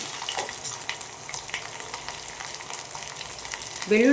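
Garlic frying in hot oil for a spicy puffed-rice churumuri snack, a steady crackling sizzle with occasional stirring clatter, close and continuous, louder at the very end.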